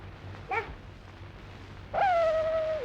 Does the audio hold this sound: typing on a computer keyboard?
no